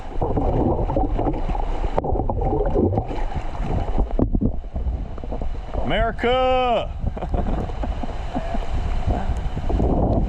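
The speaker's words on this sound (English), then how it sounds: "There's a good wind gust." Strong wind gusts from Tropical Storm Elsa roar across open water near the shore, a loud, constant buffeting rush on the microphone, with people talking and one shouting over it.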